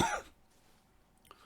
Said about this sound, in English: then immediately proceeds to cough